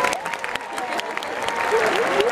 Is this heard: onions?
no